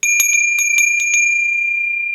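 A pair of small thrifted bells rings with several quick bright strikes, then a pure high tone lingers and fades slowly, loud and close with no voices.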